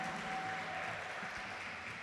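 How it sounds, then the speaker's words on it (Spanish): Congregation clapping in a Spanish-language church service, a dense, moderately quiet patter of many hands held evenly for a couple of seconds. "Dale un aplauso al Señor porque Él es un Dios vivo, poderoso y hermoso."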